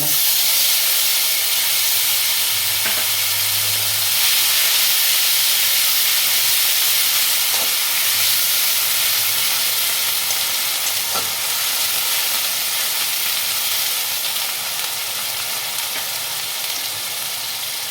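Onion paste fries in hot tempering oil with cumin and turmeric, a steady loud hiss and sizzle filling the whole stretch, with a few faint stirring knocks and a low hum underneath.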